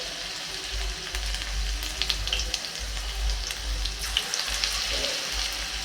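Okra pakoras in gram-flour batter frying in hot oil, a close, steady sizzle with bubbling crackles and occasional sharper pops, plus a low background hum.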